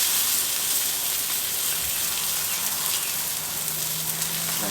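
Steak fat trimmed with a Yoshimune santoku knife renders on a grill, giving a loud, dense, continuous sizzle with a bright hiss and a low hum that comes in near the end.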